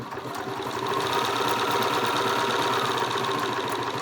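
A Bernina sewing machine running steadily while stitching an automatic buttonhole, a loud, close, continuous whirring drone with a fast mechanical rhythm and no pauses.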